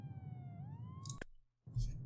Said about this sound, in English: Nice sirens in the background.